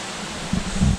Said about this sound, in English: You can see all the little different waterfalls.